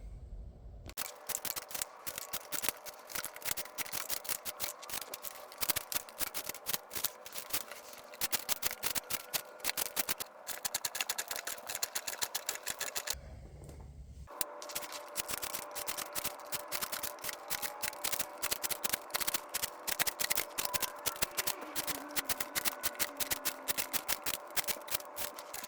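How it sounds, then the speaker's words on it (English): A steel knife slices through cardboard and rope in a long run of rapid, crisp, close cuts and rasps, broken by two brief pauses. "cut up some cardboard and rope"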